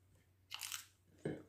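Two crisp, close crunching bites into cooked okra, separated by a short pause, with no talking over them.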